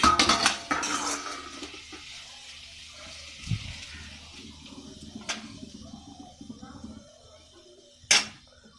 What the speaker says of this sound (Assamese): অলপ মই লৰাই দিছোঁ